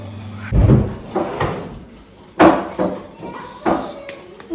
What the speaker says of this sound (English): So we will go ahead and remove it from the oven.